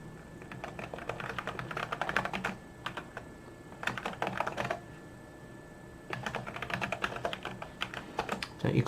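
Rapid keyboard typing during coding work on a computer, close and dry, in dense bursts of clicking keystrokes separated by short pauses, with no talking.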